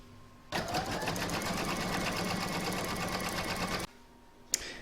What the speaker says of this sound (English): now we're going to stitch the last round, which is round number 18, and that will do the decorative satin stitch around the edge of the barrette